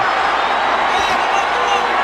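Boxing crowd at the Pacquiao vs Margarito fight roars in a steady, dense wall of cheering and shouting that holds loud and constant throughout.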